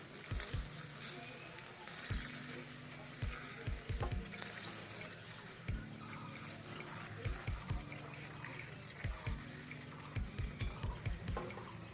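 Fuchka puris puff up while frying in hot oil, giving a continuous close sizzle with bubbling pops and stirring, while a voice speaks intermittently over it.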